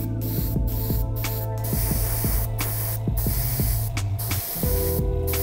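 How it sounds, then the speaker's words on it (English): An airbrush sprays green paint onto the jump mats of custom Air Jordan 3 sneakers, a continuous close hiss over a low pulsing compressor hum with brief breaks in the spray. "We're gonna paint the jump mats on both shoes using the exact same green I used on the uppers through my airbrush."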